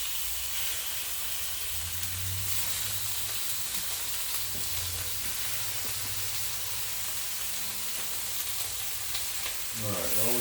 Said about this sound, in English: As you can hear,